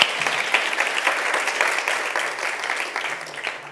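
Lively audience applause at a Barcelona conference, many hands clapping in a dense, fluctuating wash that fades slightly toward the end, with no speech over it.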